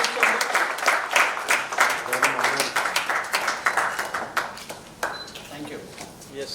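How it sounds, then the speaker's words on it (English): Applause marking a strategic partnership announcement at a construction industry event in India, with distinct, close claps in an uneven rhythm that gradually thin out, and voices in the background. "Huge round of applause, please."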